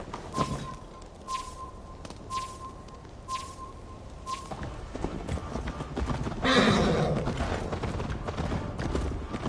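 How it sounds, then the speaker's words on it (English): A horse in the video game Assassin's Creed Valhalla gallops with rhythmic clip-clopping hooves, then lets out a loud whinny before hoofbeats continue alongside faint game ambience. "Your horse is slow, and her rider's drunk."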